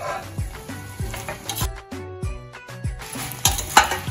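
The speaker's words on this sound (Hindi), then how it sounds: "अब इसे हम तब तक चलाएंगे धीरे धीरे जब तक ये अच्छे से पोटैटोज में मिक्स ना" Crispy honey chilli potatoes are stirred in a hot pan, a steady sizzle broken by rhythmic scraping strokes of the spoon against the metal, close up and with no talking.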